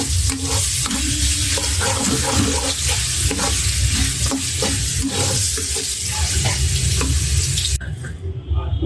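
Turmeric-and-salt-coated fish fries in a hot pan, a loud, dense, continuous sizzle with scraping stirs throughout, then drops abruptly to a quieter hiss near the end.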